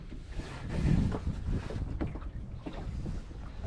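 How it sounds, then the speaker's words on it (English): Wind gusts across a valley and buffets a sailboat on open water, a steady loud rush with heavy low rumble from wind on the microphone, swelling and easing over a few seconds with no talk. "the wind is coming across this valley"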